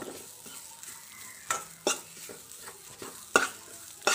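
Grated coconut being roasted and stirred in a pan with broken wheat in a home kitchen, a soft sizzle under scraping strokes of a spatula, with a few sharper clinks against the pan.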